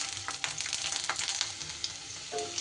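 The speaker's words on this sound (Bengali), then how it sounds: "রসুনটা আসলে আস্তে আস্তে ফুটফুট করে ফাটছে" Garlic cloves frying in hot oil, in which chillies were just fried, with a soft continuous sizzle dotted with faint irregular pops and crackles, close up and fairly quiet.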